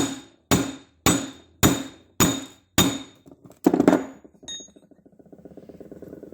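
Steel hammer taps driving a seal into a rear brake caliper of a 2003 Dodge RAM 3500 dually with an installer tool. Six sharp, evenly spaced ringing strikes, close and loud, then a clattering burst and a fading metallic rattle.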